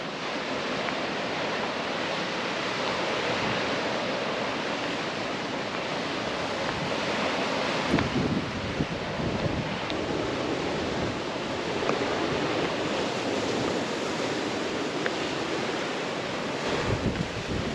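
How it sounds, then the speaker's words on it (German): Strong wind buffeting the microphone over rough water with high waves, a loud continuous roar of gusts and surf lasting throughout, steady and dense with no voices. "es ist heute richtig windig auf dem Wasser. Richtig hohe Wellen sind zu sehen."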